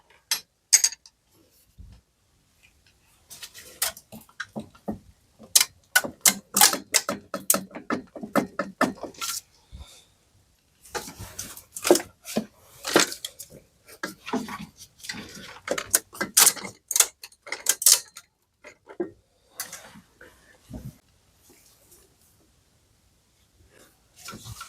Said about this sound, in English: And these bolts are the longest ones that I have to undo from the cylinder head. And now, using screwdriver one more time.